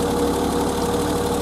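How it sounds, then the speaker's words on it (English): A 1988 BMW E30's engine runs steadily at idle close by, a constant low rumble with a slight rhythmic knock and vibration, with no voices. "let's rev it up a little bit"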